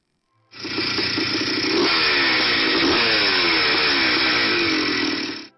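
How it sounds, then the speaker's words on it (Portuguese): A Honda CR-series two-stroke 491cc motocross engine producing 53 horsepower revs hard and close, a sustained buzzing wail that rises and holds for about five seconds before cutting off. "Era um monstro com um motor 2 tempos de 491 centímetros cúbicos e 53 cavalos de potência."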